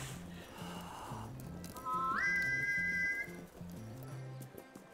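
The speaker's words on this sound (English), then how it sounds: "Soufflez dans le sifflet." A whistle is blown in a video game, a single rising, shrill tone lasting about a second over a looping, plodding game music bed with clip-clop-like rhythm.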